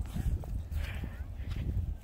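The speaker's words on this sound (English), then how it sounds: "The cow's coming right at us." A cow approaching on a hiking trail, with a soft, irregular thud of hooves on dirt close by, partly masked by a person's voice.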